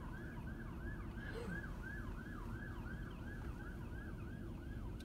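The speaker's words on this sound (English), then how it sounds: "There are more sirens." Emergency vehicle sirens wail in a continuous, repeating rise-and-fall over rumbling highway traffic at a semi truck fire on Interstate 15, heard at a distance and fairly faint, with no talking.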